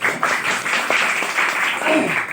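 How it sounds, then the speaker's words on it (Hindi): Students at Jr. Destine Academy in Guwahati, Assam clap together during a school health and hygiene talk, a steady, dense wash of applause that continues without a break. "तो एक बार अपने लिए जोरदार तालियां बजाओ।"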